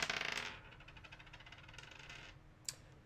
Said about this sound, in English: Let's roll a dice for a box to bust.